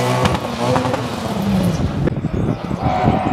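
Rally car number 49, driven by Lionel, at the 2017 Vernègues hill climb: a loud, close engine roar surging past over a few seconds, with rising and falling revs.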